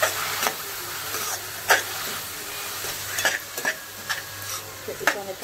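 Finely chopped onions with curry leaves and green chilli sauté in a pan for egg burji, making a steady low sizzle broken by repeated light spatula stirs and taps close by, with no voices.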